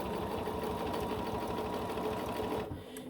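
A sewing machine stitching near the edge of a fabric bag piece runs with a steady, close mechanical whir, then stops just before the end.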